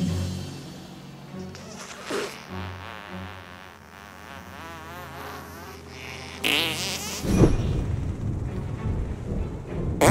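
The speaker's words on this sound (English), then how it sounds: "Did I just fart?" In the game South Park: The Stick of Truth, a fart rings out as a drawn-out, wavering buzzy blurt among game sounds, followed by a louder burst of noise toward the end.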